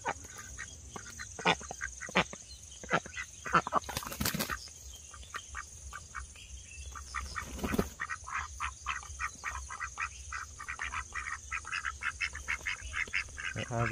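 Japanese ducks bathe in water, with scattered quacks and splashing bursts arriving in irregular clusters over a steady background hiss.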